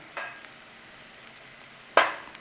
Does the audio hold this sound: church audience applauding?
no